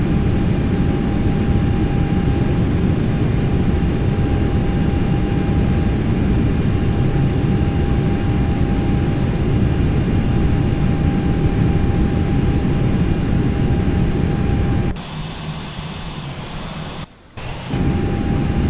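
Loud steady engine roar and airflow of an Airbus airliner in flight, continuous for most of the stretch before shifting to a thinner, quieter hiss with brief dropouts near the end.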